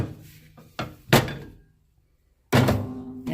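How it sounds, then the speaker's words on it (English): A lid set down on a cooking pot over a low flame, several dull close knocks with a short silent gap between them. "so I'm just gonna cover that up."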